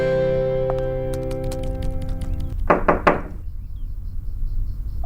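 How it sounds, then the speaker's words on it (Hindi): Knocks land on a door, a quick cluster of three or four solid raps over a steady background tone and soft music. "आपको नॉक करने की जरूरत नहीं है"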